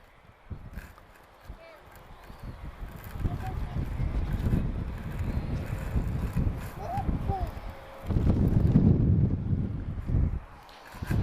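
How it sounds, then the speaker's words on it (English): Gusty wind roars and buffets the microphone at Lisbon Airport, rising and falling in strong waves, with people talking faintly underneath. "it's pretty windy here today"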